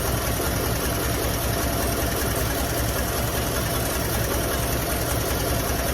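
A 1957 Chevrolet Bel Air engine runs on choke with a steady, loud, close idle, holding an even rough drone with no voices over it.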